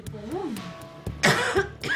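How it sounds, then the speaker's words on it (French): A 49-year-old asthmatic woman with high fever coughs in an emergency department exam box, a couple of harsh close coughs following a voice, in a noisy hospital setting. "ses quintes de toux qui l'ont conduite ici"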